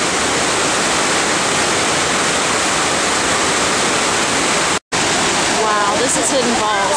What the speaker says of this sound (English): Wow, listen to the roaring water.